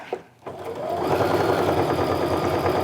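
Sewing machine stitching a pleated wristlet, beginning with a couple of soft clicks and a brief pause, then settling into a fast, steady mechanical whir of needle strokes that runs continuously at close range.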